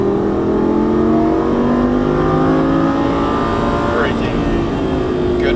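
A Lamborghini Gallardo Superleggera LP570-4 engine drones loudly at high revs on a race track, its pitch rising as it accelerates, with a voice talking over the steady engine noise.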